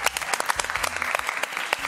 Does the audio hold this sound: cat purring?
no